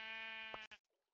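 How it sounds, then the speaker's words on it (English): A single sheep in the video game Minecraft gives one short, clear bleat up close, cutting off abruptly into silence. "That was the sound of a sheep."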